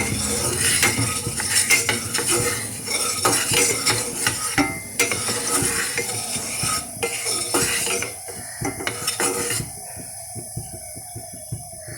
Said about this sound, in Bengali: কড়ার গায়ে তেলটা এইভাবে ছড়িয়ে দিলে তাড়াতাড়ি তেলটা গরম হয়ে যায়।